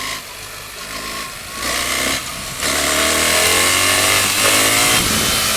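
A BMW GS 1300 motorcycle accelerating hard in third gear during a wheelie, its engine note rising steadily in pitch and growing louder over wind rush, with no voices.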